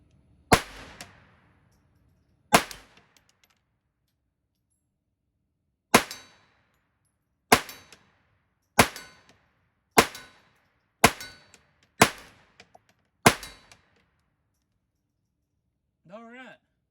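A custom .22 pistol fires nine sharp single shots at a steel silhouette target, irregularly spaced and close, each crack followed by a short ringing ping of steel, then a brief voice at the end.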